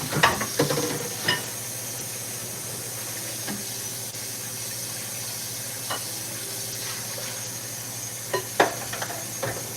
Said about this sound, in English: Let me turn the pan on so that we can actually be cooking here for you.